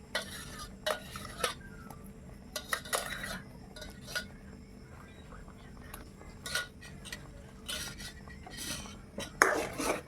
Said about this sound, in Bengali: ভালো করে নেড়ে নেড়ে দিতে হবে।